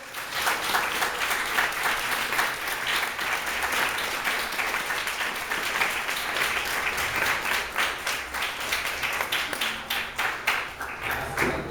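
A church congregation at a Portuguese-language service applauds the name of the Lord, with sustained, rhythmic group clapping that holds steady and thins slightly toward the end.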